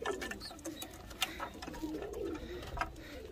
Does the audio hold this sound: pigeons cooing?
yes